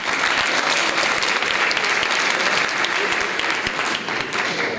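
Audience at a state senator's speech bursting into loud, sustained applause, dense clapping filling the room without a break.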